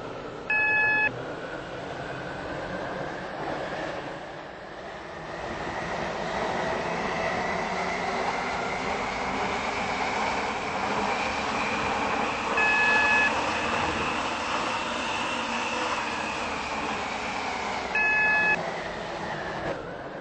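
A train runs on a Stepford Connect service in the Roblox-style railway game Stepford County Railway, giving a steady rolling rumble with a slowly rising motor whine. Short electronic beeps sound near the start, midway and near the end.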